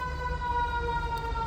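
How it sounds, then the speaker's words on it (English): Emergency vehicle sirens outside on a U.S. street, a steady, loud wailing tone with strong sustained pitch that holds throughout, heard from indoors with no talking over it. "Sorry about the sirens."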